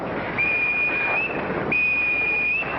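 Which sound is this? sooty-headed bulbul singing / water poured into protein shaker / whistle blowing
whistle blowing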